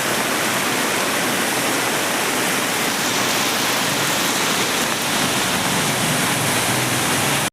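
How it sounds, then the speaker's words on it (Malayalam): Rainwater pours steadily beneath a culvert along the NH 66 highway at Randathani in Malappuram District during rain, a dense, continuous roar of rushing water that stays loud and unbroken throughout, with no voices. "അങ്ങനെ താഴത്തേക്ക് ഒഴുകി പോകട്ടോ"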